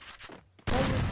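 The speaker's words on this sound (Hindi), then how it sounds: "फायर करते हैं तो लग ही नहीं रहा है" Shotgun blasts from the M1887 in the Free Fire mobile game, a quieter stretch then a sudden loud burst of broadband gunfire filling the second half.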